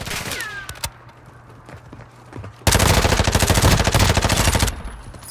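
Heavy automatic gunfire in Call of Duty Warzone on the Vondel Resurgence map, loud and close: scattered single shots first, then a dense sustained burst of rapid fire lasting about two seconds before cutting off.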